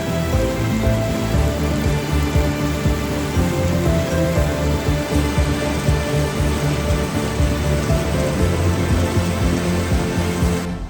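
Heavy rain pours down during a drive in a Mahindra XEV 9E electric car from Delhi to Mussoorie, a loud, dense, unbroken hiss and patter close by, with no talking.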